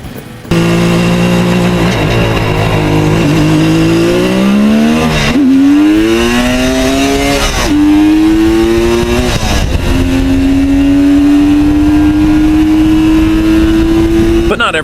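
Kawasaki H2 750 two-stroke motorcycle engine accelerating hard, a loud, close, buzzing wail rising in pitch through several gear changes with brief dips between them, running continuously throughout.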